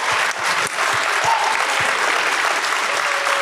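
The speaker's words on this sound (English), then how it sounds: "huge round of applause." Audience at a Thy Geekdom Con 2023 panel applauds the One Piece anime voice actors: dense, steady clapping that fills the whole stretch at close range, with no one speaking over it.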